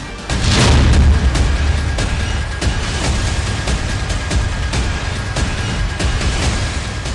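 A deep boom from a hypersonic missile strike on Tel Aviv opens loudly, followed by a long, dense rumbling roar with scattered cracks and pops.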